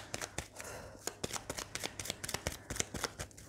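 Lenormand oracle cards shuffled by hand, a rapid run of crisp riffling flicks and soft slaps in close succession, loud and close with no talking.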